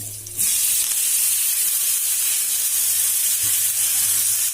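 Curry leaves and pineapple are dropped into a hot pan for pineapple gojju, setting off a sudden loud, steady sizzle and crackle of frying that continues without a break.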